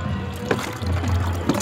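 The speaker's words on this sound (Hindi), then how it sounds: "मैं पानी इसमें डाल दे रही हूँ।" Water being poured into a container to make a liquid fertilizer with banana and a little jaggery, a steady filling and gurgling sound with a few louder splashes, close by, with no talk.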